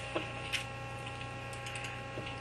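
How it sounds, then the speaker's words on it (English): Sparse, light computer keyboard clicks during typing in a database query window, a few soft taps over a steady electronic hum, no talking. "you can hear the keyboard clicking away."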